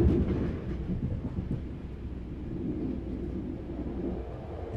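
A train rolls steadily along its rails, a continuous low rumble with faint rhythmic clatter, close and even throughout with no voices.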